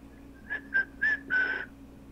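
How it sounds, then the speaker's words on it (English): A person whistles a short tune close by: three brief notes followed by a longer held note, clear and alone against a quiet background. "Started to whistle."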